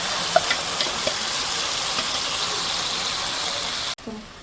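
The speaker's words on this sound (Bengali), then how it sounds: "এখন আমি টমেটো পেস্টটা দিয়েছি।" Tomato paste frying in a pan, a steady bright sizzle with a few small spatter pops, cut off abruptly near the end.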